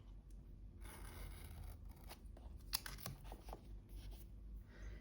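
Scissors snipping paper for a planner sidebar, a run of quiet close crisp cuts and light scrapes at an uneven pace, with no voices.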